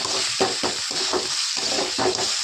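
Masala for a fish curry frying in hot oil, a loud close sizzle with rhythmic stirring strokes scraping through the pan several times.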